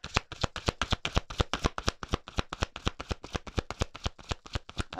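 Tarot cards being shuffled or drawn by hand, a rapid run of crisp papery slaps and riffles repeating steadily at close range for the whole stretch, with no talking.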